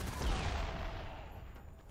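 Assault rifle fire from Dead Rising 3 rattles in a dense, fast burst of shots, fairly loud up front and trailing off into a rumbling tail.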